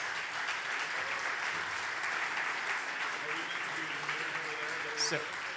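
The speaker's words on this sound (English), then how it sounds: "feel free to give them a round of applause" Steady applause from a crowd at a city council candidate forum fills the whole stretch, a dense even clatter of many hands clapping with no pause.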